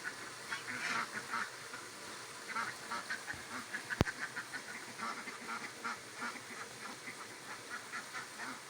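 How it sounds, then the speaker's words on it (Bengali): A group of ducks beside a small built pond keep up a faint, steady chatter of quacks with one sharp knock partway through. "হাঁসের জন্য মিনি পুকুর যেটা আমরা নির্মাণ করেছি, তাতে অলরেডি একটা হাঁস ঝাঁপ মেরেছে ওর মধ্যে"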